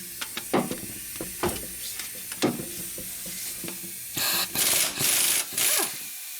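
Impact wrench or ratchet undoing a 19mm crankshaft pulley bolt on a Honda 3.5L V6 engine: several short sharp clicks and knocks, then three loud sustained bursts of hissing, rattling mechanical noise close by, with no talking.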